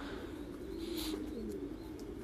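Breeding pigeons at a pigeon farm coo in low, throaty, rolling calls that rise and fall continuously, with a few faint higher chirps above.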